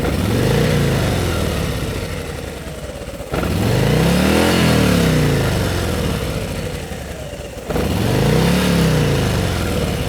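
Harley-Davidson Road Glide Special engine revving as the throttle is pulled, loud and close, with three swelling rev cycles that rise and fall back, each cut off and restarted, and no talk.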